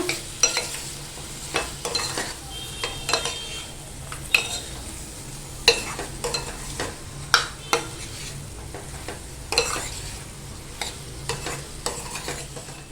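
Mori fish sautéing in a Malvani-style spice masala, a steady soft sizzle broken by repeated spoon stirs and scrapes against the pan at an uneven rhythm, close by, no speech.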